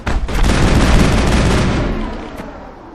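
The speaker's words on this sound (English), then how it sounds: "Oh, my team's getting shot up." Dense, sustained gunfire and booming impacts in the video game Mass Effect as enemies shoot up the player's squad, a loud continuous barrage that swells, holds, then tapers off slightly, with no talking.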